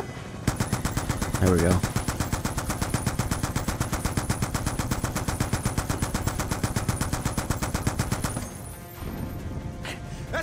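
Sustained rapid machine-gun fire rattles in a Call of Duty campaign, dense rhythmic bursts running for several seconds with a brief spoken remark over it before the firing eases.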